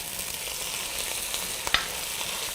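Potatoes browning in a pan for zucchini soup, a steady soft sizzle and crackle of frying with a brief stirring clatter partway through, close and moderately quiet, no talking.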